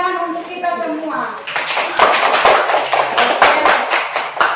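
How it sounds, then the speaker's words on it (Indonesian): Schoolchildren in an Indonesian classroom clap their hands together after the teacher asks them to, with a burst of uneven, close claps beginning just after a voice and continuing to the end. "Coba beri tepuk tangan untuk kita semua."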